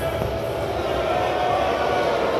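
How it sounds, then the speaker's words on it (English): Crowd murmur and scattered cheering at a Toronto Blue Jays baseball game fill the stands in a steady, broad wash, with nearby voices mixed in. "Listen to the crowd."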